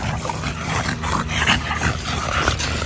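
A pit bull dog named Joker whimpers and yips in short, repeated bursts over a few seconds, close and fairly loud, with no speech.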